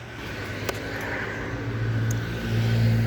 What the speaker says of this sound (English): with the motor running